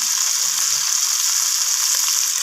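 Tomato pieces sizzle steadily in hot oil for a potato curry, a close, even frying hiss that holds at one level throughout, with no voices.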